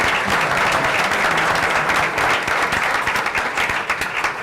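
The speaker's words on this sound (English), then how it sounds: "Let's give Tom a round of applause" A school board meeting audience applauds for a newly promoted director of capital projects, a loud, dense, continuous round of clapping filling the room.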